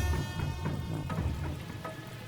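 Steady rain falling outside during a sudden storm, a continuous hiss with patters of drops heard close and without speech.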